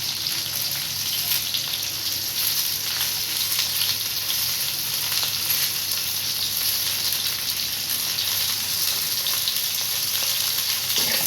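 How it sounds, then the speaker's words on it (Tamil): Onions and drumsticks sauté in a hot pan for murungakkai puli kulambu, giving a loud, steady, close sizzle with no break for the whole stretch and no voices. "ஓகே, இப்போ இந்த வெங்காயத்தோட முருங்கைக்காயை நல்லா வதக்கிக்கிறேன்"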